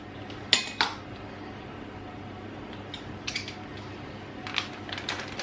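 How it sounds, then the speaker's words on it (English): A pizza cutter rolls through Jamaican patty dough to trace the shape of a container: a few sharp metallic clicks and scrapes in short bursts, separated by quiet pauses, close but fairly soft. "I'm just going to go ahead and cut this in the shape of this container"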